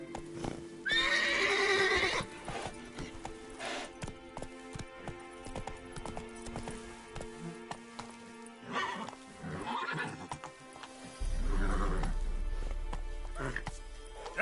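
Roach the horse in The Witcher 3 video game neighs in a clear, loud whinny, followed by rhythmic hoofbeats clopping along, with a brief game voice and shifting background sounds.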